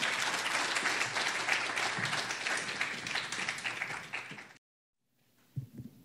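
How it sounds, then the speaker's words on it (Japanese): Symposium attendees at a 75th-anniversary atomic bombing event applaud Professor Yamagiwa once more. The steady crowd clapping gradually fades, then cuts to near silence, followed by a few faint knocks. "皆様、山際先生に改めまして今一度拍手をお願いいたします"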